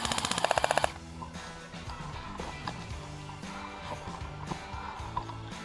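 A rapid airsoft burst at a milsim event, a quick string of sharp, evenly spaced cracks up close that stops abruptly, followed by quieter outdoor background with scattered faint clicks.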